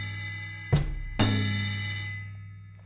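Two sharp drum hits a half second apart on a tom played together with a ringing bell, the second hit leaving a long, slowly fading ring, close and alone.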